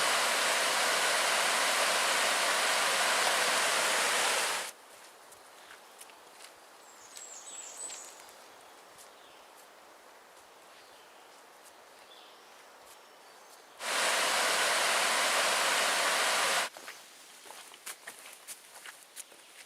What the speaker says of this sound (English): Oh, look at the river. You can tell it's a lot higher than it was yesterday.